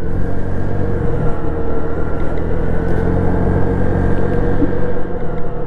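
A Honda Navi scooter engine runs close by in a steady, loud, continuous drone, holding an even pitch throughout with no pauses.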